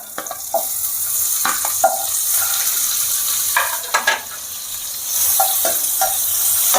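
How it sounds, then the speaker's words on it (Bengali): Butter melting in a hot wok (kadai) while cooking tandoori chicken, with a bright, continuous sizzle and scattered scrapes and clinks of a stirring utensil, loud and close. "কড়াইটা গরম হয়ে গেছে এবার আমি দিয়ে দেবো বাটার"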